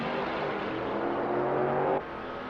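A Corvette race car engine in a racing video game during an e-series practice and qualifying session holds a steady drone at high revs, then the pitch and level drop sharply near the end as it eases off or passes.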